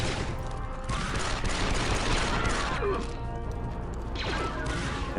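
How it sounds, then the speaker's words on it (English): Dense, continuous blaster fire from clone commando squadmates in Star Wars Republic Commando, a thick sustained barrage of overlapping shots and crashes during a firefight with droids, loud and close without letup. "I need you guys to stop shooting me"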